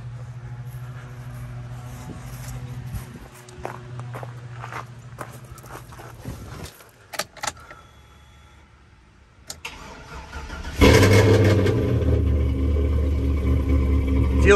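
A Chevrolet Silverado pickup with a swapped, built 6.0 V8 cranks after some footsteps and clatter, then catches and roars to life loudly on a cold start, settling into a rough, steady idle.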